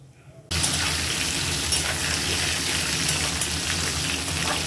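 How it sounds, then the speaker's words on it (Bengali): Cut potatoes and raw banana are added to hot oil, left from frying fish, with cumin and dried chilli, setting off a sudden loud, steady hiss of frying that continues evenly for several seconds. "এবারে দেব কেটে রাখা আলু আর কাঁচকলা।"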